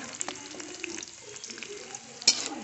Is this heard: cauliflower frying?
yes